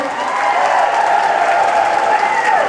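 Dense crowd applause and cheering fill a charity ball attended by hundreds, a loud steady wash of clapping with raised voices throughout.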